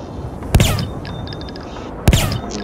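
In the video game IGI, two sharp gunshots ring out about a second and a half apart, each followed by a short echoing tail, with game-like electronic tones between.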